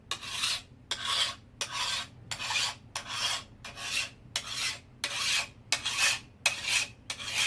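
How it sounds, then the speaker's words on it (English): A metal file rasps along a sword's edge to take off burrs: about eleven steady, evenly spaced strokes, close up and moderately loud, with no voices. "take any file, you'll want to change your angles on it, and you'll want to go down the edge"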